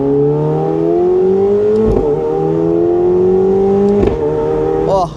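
A McLaren 750S engine drones loud and close while driving on the road in sport mode, pitch climbing steadily through two long pulls, each broken by a brief shift dip near the middle and end, before easing off.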